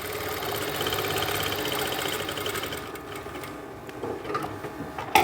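A sewing machine runs steadily stitching an umbrella skirt, a continuous mechanical whir with fine rapid ticking for about three seconds before slowing and stopping, followed by a few faint handling clicks.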